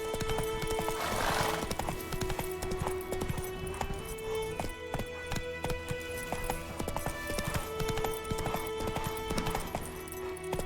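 A horse gallops in The Witcher 3, steady rapid hoofbeats running throughout with a whinny near the start, layered over dense game music and ambience.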